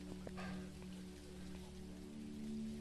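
Steady rain patters in the video game Phasmophobia, a soft even hiss with a faint low hum beneath and a few light knocks, with no voices.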